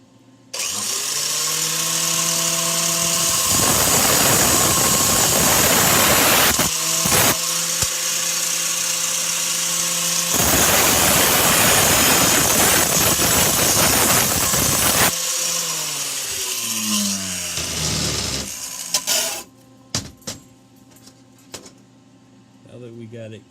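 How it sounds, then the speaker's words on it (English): An abrasive cutoff wheel slices through a metal spoon for a homemade mini bike, a loud high-pitched whine and grinding screech running for long stretches, with the motor spinning up and winding down between cuts. "I'm going to take our cutoff wheel. We're going to go ahead, we're going to trim the spoon off"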